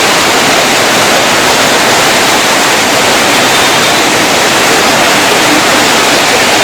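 Heavy rain comes down in a sudden downpour, a dense, steady roar of hiss that stays loud and close throughout without any break or voice.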